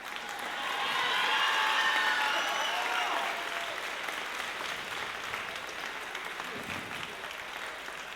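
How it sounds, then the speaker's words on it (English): An audience at a high school band spring concert applauds the percussionists. The clapping swells over the first few seconds, then thins into a lighter, sustained patter. A faint voice is heard near the end. "Let's give the percussionists one more round of applause"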